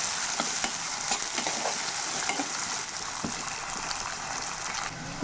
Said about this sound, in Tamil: வெங்காயம் நல்லா பொன்னிறமாக வர்ற வரைக்கும் வதக்கி எடுத்துக்கலாம்.